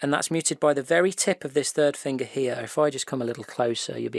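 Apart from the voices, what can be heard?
No everyday noise stands out behind the speech.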